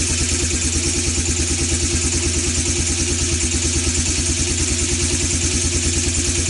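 A four wheeler engine idles after a carburetor rebuild and a new spark plug, with no choke. It gives off a steady, rhythmic, close-up putter with a clattery mechanical edge, running alone without revving or voices.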